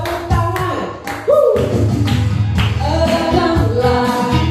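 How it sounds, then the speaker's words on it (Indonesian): A church congregation breaks into applause after a short pause, a dense wash of clapping that carries on steadily to the end, with faint sounds under it at the start. "Kasih tepuk tangan."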